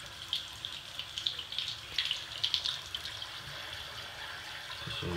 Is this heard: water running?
yes